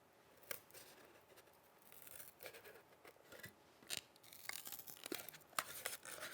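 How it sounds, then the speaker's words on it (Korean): Scissors snip through Woodrock foam board with double-sided tape on it, cutting out an airplane wing shape; a quiet run of irregular crisp snips and crackly tearing scrapes, close by with no speech. "가위로 잘 잘라집니다."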